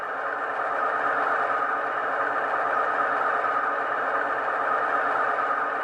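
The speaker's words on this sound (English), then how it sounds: "You'll hear the RPMs increase in the prime mover." A diesel locomotive prime mover from a Soundtraxx Tsunami 2 sound decoder runs with a steady, droning roar that holds loud and even throughout as it revs up.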